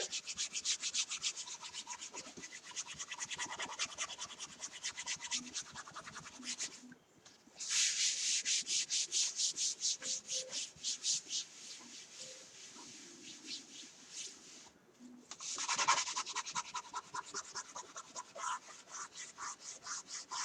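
Chalk marker being rubbed and scrubbed off a chalkboard sign, a dry, close scratchy rubbing in quick repeated strokes with brief pauses, no talking.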